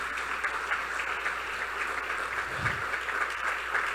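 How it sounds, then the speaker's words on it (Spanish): A church congregation applauds during a Spanish-language sermon, with steady sustained clapping from many hands filling the room for several seconds. "Dele un aplauso al Señor esta mañana."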